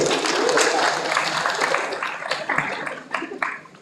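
An audience claps together at an Indonesian talk event, with dense, lively applause that fades gradually and ends in a few scattered claps.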